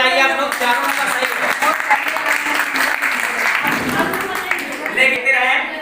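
Children clapping their hands together during a school readiness activity, steady close applause running throughout, with talking mixed in over it.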